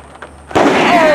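A wrestler crashes down with an equation bomb slam in an ESW Shockwave match: a sudden heavy impact after near quiet, followed by a loud sustained wash of noise.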